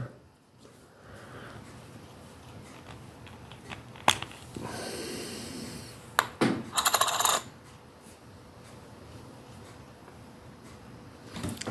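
A Ukrainian 2 hryvnia 2018 commemorative coin with a reeded edge is handled, with a few light metallic clinks and rustling handling noise, close and fairly quiet.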